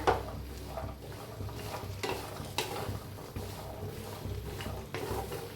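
Beans roast in a hot pan while being stirred, giving a soft, low sizzle with scraping strokes against the pan and a few sharper knocks, fairly quiet and close.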